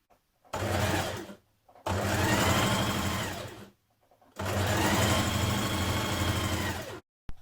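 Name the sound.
sewing machine top stitching a jacket edge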